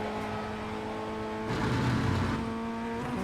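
A Formula Ford 1600 racing car in the iRacing sim at Lime Rock Park: steady engine drone that dips as the throttle is lifted, then swells louder around the midpoint as full power returns, no voices.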